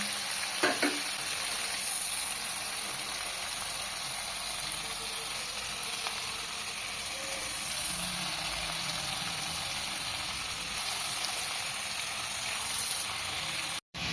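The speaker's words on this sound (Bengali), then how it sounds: "মাছগুলোকে আমি ভেজে তুলে নিচ্ছি" Prawns frying in hot oil, a continuous close sizzle and bubbling hiss that holds steady throughout, with a few faint clinks early on and no talking.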